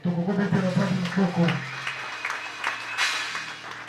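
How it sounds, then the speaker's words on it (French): A church congregation claps and cheers at an ordination service at Eglise Nouvelle Alliance. The applause comes in steady, close crackling, and a voice speaks over it at the start. "Est-ce que la salle peut acclamer?"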